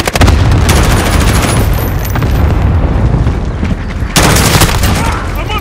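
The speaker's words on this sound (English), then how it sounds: "I'm under fire." Loud, dense gunfire and booming blasts from Modern Warfare crackle in rapid volleys, close and heavy throughout, easing briefly before another burst erupts.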